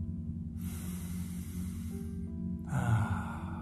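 Deep, slow breathing during a guided meditation, with a broad hissing breath sound that swells and eases across the clip and a fuller inhale or exhale near the end, all fairly close and steady.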